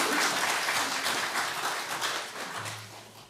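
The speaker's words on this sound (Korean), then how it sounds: "우리 박수로 우리 환영하겠습니다." At an installation service for a pastor at a Korean Presbyterian church in Fayetteville, the congregation claps in welcome as he comes forward. The applause is dense and close at first, then gradually thins and fades toward the end.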